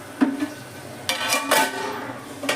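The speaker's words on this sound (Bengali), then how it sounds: "এবার আমি চিকেনটাকে ঢাকা দিয়ে দেবো" A lid goes onto a pot of spicy red kosha chicken curry, giving a few separate clanks and clatters of metal against cookware. The sounds are close and fairly faint, with a quiet background and no talking.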